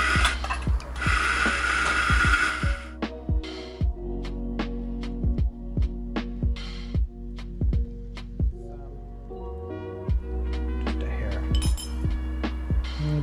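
Espresso poured from a custom espresso machine, with steady machine hum beneath a run of sharp, evenly spaced clinks of cups and metal against glass.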